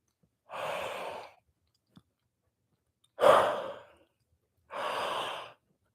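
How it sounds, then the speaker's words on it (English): Three long, breathy yawning exhalations during a relaxation exercise, each about a second long and spaced well apart, close and moderately loud, with quiet pauses and a tiny click between them. "big yawn."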